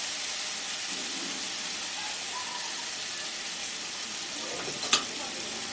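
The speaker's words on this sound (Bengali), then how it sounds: "এর মধ্যে একবারে আমি টমেটো পিউরিটা দিয়ে দিচ্ছি।" Tomato puree goes into frying masala for a Bengali chicken dopiaza, giving a steady close sizzle and hiss with light stirring and one sharp clink near the end.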